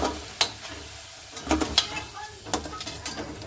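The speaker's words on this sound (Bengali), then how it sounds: "দেখুন আলুগুলো কিন্তু আমার খুব সুন্দর করে ভেজে নিয়েছি, লাল লাল করে ভাজা হয়ে গেছে।" Potatoes fry in a pan with a soft sizzle beneath sharp, scattered clinks and scrapes of a utensil stirring, the metallic taps coming irregularly at close range with no talk.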